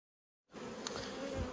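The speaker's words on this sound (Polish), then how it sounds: "No, taka spokojna pszczółka, naprawdę." Honeybees hum softly and steadily at a hive being prepared with extra honey supers, a faint continuous buzz that starts suddenly after a short silence.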